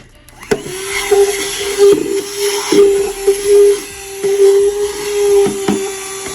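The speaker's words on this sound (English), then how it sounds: "I'm gonna have to vacuum it." A vacuum cleaner drones steadily with a sharp whine, its pitch dipping briefly several times as it sucks up dirt in a makeup room, close and loud.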